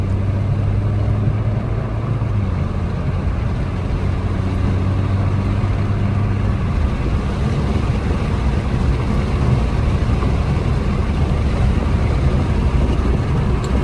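Used car bought at a dealer auction, engine pulling hard under acceleration: a sustained low drone with a steady hum that fades out as broadband engine and road noise build from inside the cabin, with no talk.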